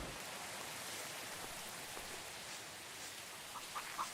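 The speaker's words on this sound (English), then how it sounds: "Oh, it's raining, so we don't need to water." Steady, soft rainfall in the cozy farming simulator game Greenfield Valley: an even, hissing wash of drops with a few slightly brighter splashes near the end, no voices.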